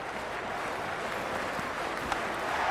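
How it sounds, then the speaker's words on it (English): Stadium crowd noise in the video game Cricket 26, a dense steady roar of many voices and faint clapping, continuous and even throughout. "The crowd are making a heck of a lot of noise even before the first ball's been bowled."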